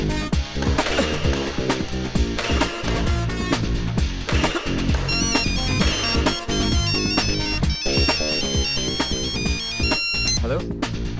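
In a Hindi comedy film, a phone rings out on an outgoing call with repeated electronic ringback tones over background music, while people talk in the scene.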